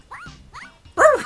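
A dog character in the Party Carnival game gives three short yipping barks, the first two soft and the last one louder and sharper.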